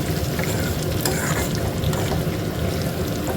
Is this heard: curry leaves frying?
yes